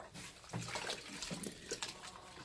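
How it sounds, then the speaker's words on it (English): A wool felt hat is dipped into a bucket of hot soapy water, giving soft sloshing and dripping splashes in uneven bursts, close and fairly quiet, with no talking. "I've refreshened our bucket again. It's hot soapy water."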